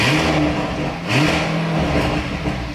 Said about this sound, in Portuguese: Esse ruído é só do motor?